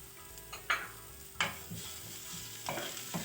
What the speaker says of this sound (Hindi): अब हम इसको भी सौते करेंगे।